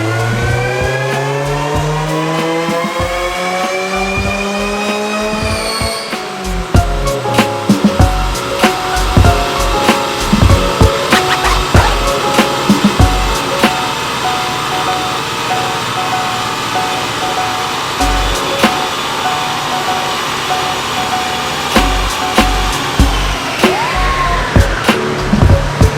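A supercharged Honda Civic Type R EK9 engine revs repeatedly on boost pulls, rising through sweeping harmonic whine with supercharger howl, followed by sharp bursts and pops as the throttle is worked, loud and close.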